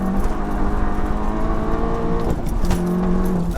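A stage 2 Seat Leon Cupra with 402 bhp pulls hard in second gear, its engine note climbing steadily under load from inside the cabin, loud and continuous, before a brief dip and then rising again.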